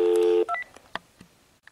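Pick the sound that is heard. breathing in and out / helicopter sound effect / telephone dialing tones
telephone dialing tones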